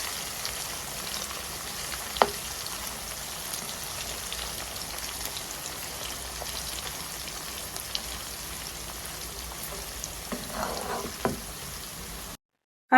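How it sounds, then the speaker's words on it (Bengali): Potatoes for French fries crackle at medium heat in oil during a light first fry, giving a steady, dense sizzle with a few sharper pops, heard alone. "আর আমি কিন্তু ডাবল ফ্রাই করব, তাই প্রথমে হালকা ভেজে নেব।"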